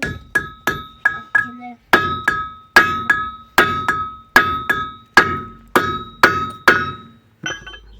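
Hammer blows drive out a bolt on a Ford Transit rear wheel bearing hub, about fifteen sharp metallic strikes in a steady rhythm with bright ringing overtones, close and loud, with a brief scrape at the end.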